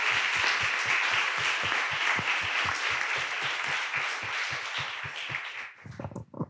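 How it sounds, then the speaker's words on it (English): Dense round of audience applause at a conference session in a city hall, steady and full for about five seconds, then thinning into scattered claps as it fades out. "I'd like everyone to give a quick round of applause for his answers here"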